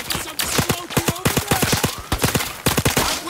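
Rapid bursts of automatic gunfire in the VR shooter game Zero Caliber, loud and close, firing in fast rhythmic volleys with brief pauses between bursts.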